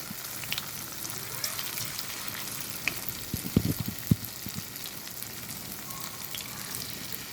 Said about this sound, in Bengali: দেখো বন্ধুরা, আমার চিকেন পকোড়া ভাজা প্রায় হয়ে এসছে